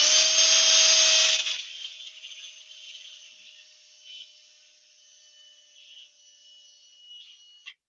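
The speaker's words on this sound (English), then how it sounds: "When you're drilling a hole" A power drill bores a hole into wood, loud and steady for about a second before winding down to a faint high whine that trails off, ending with a small click.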